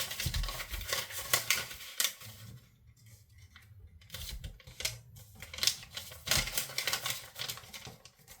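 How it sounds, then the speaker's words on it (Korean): Sheet of origami paper being folded in half into a triangle for a mini car model, with close, crisp rustling and creasing taps in scattered bursts around a quieter pause, no talking. "이렇게 세모로 접어주세요"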